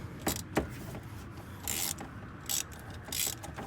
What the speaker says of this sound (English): 3/8 extension, 3/8 ratchet.